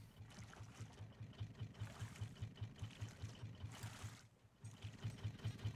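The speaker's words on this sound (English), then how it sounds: "Okay, turn off that engine." A boat engine idles on a raft in the video game Raft, thumping in a steady low pulse that drops out briefly and resumes, with a faint watery wash behind it.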